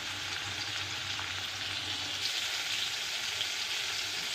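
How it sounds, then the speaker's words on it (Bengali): Rohu fish pieces rubbed with salt and turmeric fry in hot oil, giving a steady, even sizzle that holds close and constant throughout with no voices. "মাছগুলো ভেজে নেব"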